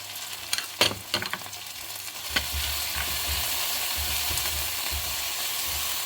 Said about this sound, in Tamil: ஒரு மினிட் வதக்கிட்டு எடுத்து வச்சு ஆறுனப்புறம் அரைச்சிட்டு வருவோம்.